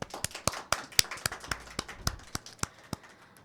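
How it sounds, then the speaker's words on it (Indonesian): Applause from a school audience at SMA Negeri 1 Pati, a run of sharp, separate hand claps that comes over clearly in a steady quick rhythm, loud at first and thinning toward the end, with no talk over it. "Tepuk tangan untuk Bapak Endro."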